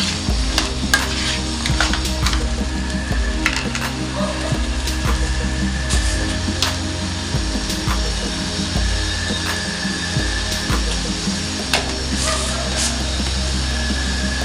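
Cooked chickpeas stirred into a kootu curry with salt, a close ratcheting scrape of a spoon against the pot repeating steadily over a soft simmering sizzle, with no talking.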